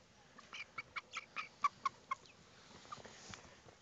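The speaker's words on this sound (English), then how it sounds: "A lot of roosters, three hens maybe." Colombian rock chickens, mostly young roosters with a few hens, give a quick run of about nine faint, evenly spaced clucks, then a few softer scattered ones.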